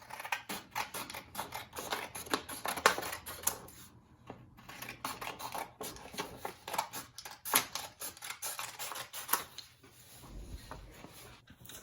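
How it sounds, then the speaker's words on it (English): Scissors snip through paper being cut into strips, a series of close, crisp cuts at an uneven pace with short pauses, no voices. "now that you've cut your paper into strips"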